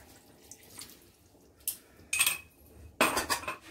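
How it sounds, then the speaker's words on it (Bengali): A spoon stirs milk into fried bitter gourd in a pan, making scattered metallic clinks and wet scrapes that come in short bursts, the loudest near the end, with no talking. "দুধটা দিয়ে একটু নাড়াচাড়া করে নিলাম।"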